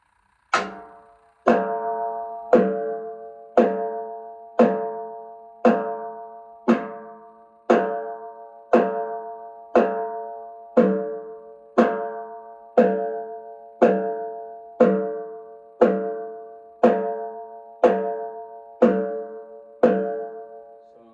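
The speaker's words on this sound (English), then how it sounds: "I use both my hands to strike the edge of tom and snare" Soft hand strikes on the edges of a tom and a snare drum in a jazz setting land in a slow, even pulse of about sixteen hits, each a gentle ringing knock that decays before the next.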